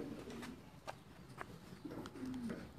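Racing pigeons kept in cages give soft, intermittent coos close by, with a few short calls standing out over a faint background hum.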